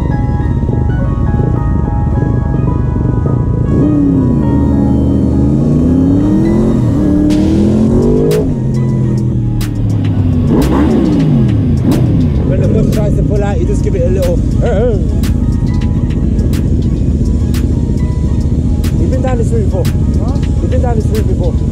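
A Yamaha Raptor R1 superquad engine revs hard and climbs through gears on a London street at night, loud and close, with rising and falling pitch sweeps and sharp pops over a steady rumble.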